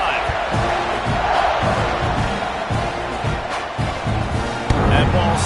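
A college football stadium crowd roars steadily before a kickoff late in a close game, a dense, loud wash of cheering and shouting with occasional sharp thumps, voices blending in throughout.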